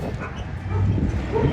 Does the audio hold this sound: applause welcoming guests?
no